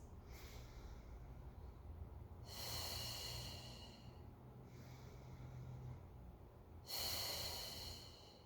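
Slow, deep breaths during a Pilates mat class, with two strong breathy exhalations rising and fading several seconds apart, close and audible over a quiet background.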